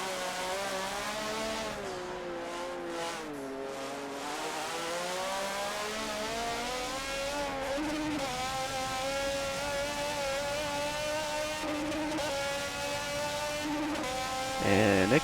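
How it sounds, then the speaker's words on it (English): An IndyCar racing video game plays a hot lap at Indianapolis, with the car's engine droning at a high, steady pitch that climbs and dips slightly through gear changes while a commentator talks over it. "And Nick sounds like he's using clutch here, which is really not that useful in Indy cars"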